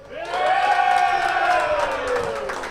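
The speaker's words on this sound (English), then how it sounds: "contestant number 3, please make some noise" An audience at a lounge contest roars and whoops for contestant number three, a loud, sustained cheer with a rising shrill whistle that swells quickly and then fades slightly.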